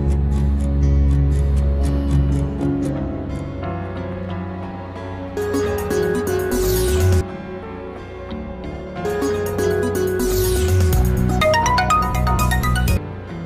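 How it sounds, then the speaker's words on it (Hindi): A mobile phone rings in a home with a repeating electronic ringtone melody that plays on in several loud cycles, with no voices over it. "अरे बेटा कब से फोन बज रहा है, देख तो ले एक बार"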